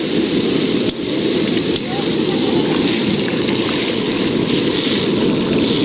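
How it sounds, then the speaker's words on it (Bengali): Water poured over potatoes frying in oil in an outdoor village kitchen sets off a loud, dense, continuous sizzling roar that fills the whole stretch without a break. "দেখুন এখন ভালো করে আলু ভেজে নেওয়ার পরে জল দিল দাদা।"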